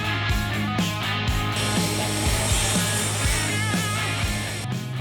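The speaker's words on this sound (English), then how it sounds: "let's set out to the table saw and trim off that little section right there" A table saw trims a narrow strip off a vinyl or laminate wood flooring plank, with the blade set barely above the surface. The motor hums loud and close while the cut grinds through with steady, rhythmic rasps, and no one speaks.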